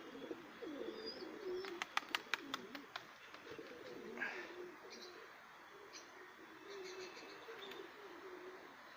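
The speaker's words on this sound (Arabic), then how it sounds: "راه طلقت اليوم الحمام كامل" Domestic pigeons released outdoors, cooing softly at a distance, with a quick run of sharp clicks or flaps near the start and faint chirps around them.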